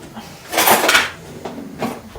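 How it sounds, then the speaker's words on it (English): A lid set down onto a cooking pot in a home kitchen, a short clattering metal clank with a brief rattle, followed by two fainter knocks, close by. "Let's just pop pop a lid on you for now."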